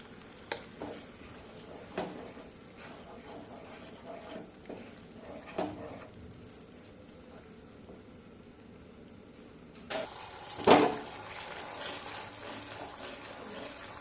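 Spiced paneer masala with cream, milk and saffron being stirred and sautéed in a pan, giving a soft, steady sizzle with intermittent scraping, then a sharper clatter of the utensil near the end.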